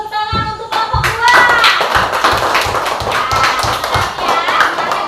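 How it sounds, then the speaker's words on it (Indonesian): A school class claps for a presenting group, many hands striking in a loud, fast, fairly regular rhythm that carries on steadily close by, with a few voices mixed in. "Beri tepuk tangan untuk kelompok 2."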